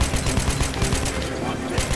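Rapid, evenly spaced revolver gunshots in the video game Metro 2033, a dense string of loud, muffled-sounding bangs close up over continuous noise from the game.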